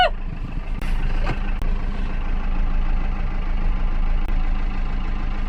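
A farm tractor's heavy diesel engine runs steadily close by, revved to put out the charging light, a low rumbling drone with a couple of brief clanks near the start.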